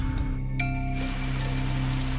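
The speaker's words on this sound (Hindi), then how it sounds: "लगातार बारिश हो रही थी।" Steady rain falls without a break, a soft continuous patter and hiss at moderate level with no voices.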